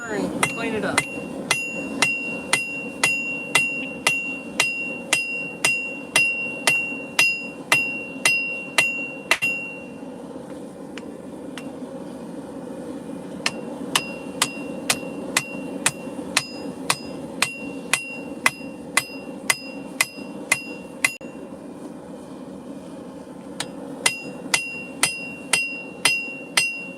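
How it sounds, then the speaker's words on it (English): A light hammer strikes a steel meat cleaver during forging, ringing out in steady bright metallic blows with a short pause before the rhythmic strikes resume, close and prominent over a low shop hum. "Now I'm going to use a light hammer and clean it up."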